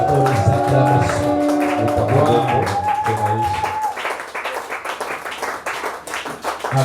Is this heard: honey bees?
no